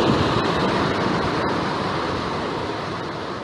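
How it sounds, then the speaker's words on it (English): The Acheron River rushes over cascades and deep pools in the Lower Acheron Gorge on New Zealand's South Island. It makes a continuous, dense, roaring wash of water, close and steady throughout. "with deep pools as it flows through a small gorge with cascades"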